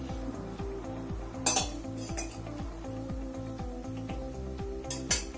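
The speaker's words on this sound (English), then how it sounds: "So I heat the pan and place the pan and add a little oil to it." A pan set down on a stove with a little oil added while making homemade momos, giving metallic clanks and scrapes against a soft sizzle, with a couple of sharper knocks.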